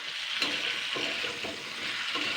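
Drumsticks (sajne data) and potatoes frying in oil in a pan, a steady close sizzle with occasional stirring scrapes, no talking.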